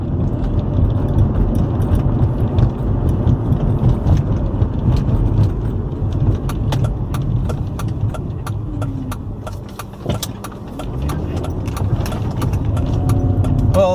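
A car driving at night, steady engine hum and tire rumble filling the cabin throughout with small clicks and bumps, no talk heard.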